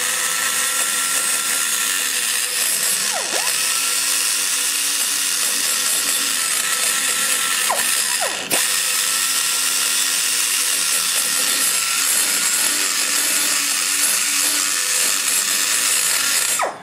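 A power tool grinds and trims the combustion chamber of a ProComp 190 Stage IV cylinder head, a continuous loud high-pitched whine that holds steady throughout with slight shifts in pitch.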